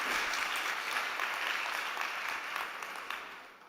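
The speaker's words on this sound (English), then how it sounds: "A big round of applause" Audience applause after a startup pitch on a summit stage, full clapping at first that gradually thins and fades toward the end, with no voices over it.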